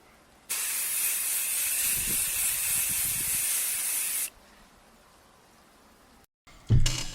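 Clear lacquer sprays onto a stationery tin guitar in one loud, continuous hiss of about four seconds, followed by quiet and then a brief knock.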